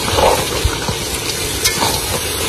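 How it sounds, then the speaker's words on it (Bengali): Fish head masala sautéing in a pan with steady sizzling and occasional scraping stirs, close and fairly loud throughout with no voices. "মোটামুটি কষানো হয়ে গেছে, এবার আলু দিয়ে দেবো।"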